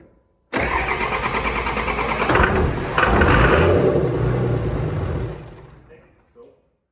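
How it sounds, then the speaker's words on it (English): A 24-valve Cummins diesel with a P-pump swap cranks and fires on its first start, then runs loud and rough for about five seconds before cutting off. "So I'm going to have him turn it over here, and then I'll tell him to shut it off if it idles."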